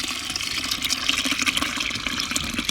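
Watermelon juice pours steadily into a container, with a continuous splashing gurgle and no one speaking.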